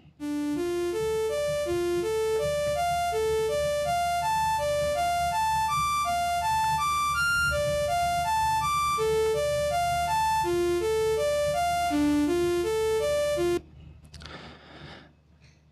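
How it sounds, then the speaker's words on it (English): A slow synthesizer arpeggio built in Ardour steps through bright, buzzy notes in an even repeating pattern, loud and alone, before stopping abruptly near the end, with a brief faint noise after. "we're going to make a synth, and we're going to play some arpeggios on it"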